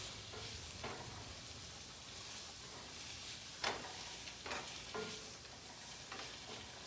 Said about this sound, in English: So we're just letting that saute a little bit.